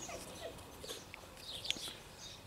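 A gundog whimpers and yips indoors in short, faint, high-pitched bursts scattered across the moment, fairly close but quiet, with no talk over it.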